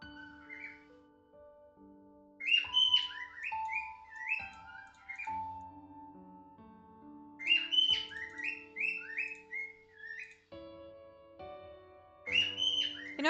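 Birds sing in lively bursts of chirping, whistled phrases, coming in two or three clustered outbursts over a soft, steady tonal background, with quieter gaps between.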